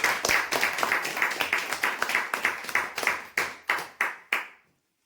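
A crowd at a weekly prize draw applauds a winner, the steady clapping thinning into a few slow, separate claps before falling silent.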